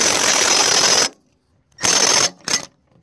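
Ratchet wrench turning out bolts on a CAT 933G steering cylinder: a loud, fast buzzing clatter for about a second, a pause, then two shorter bursts close up.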